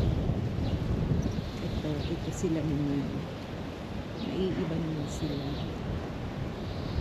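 Steady low rumbling wind buffeting the microphone outdoors in New Zealand throughout, with people talking over it.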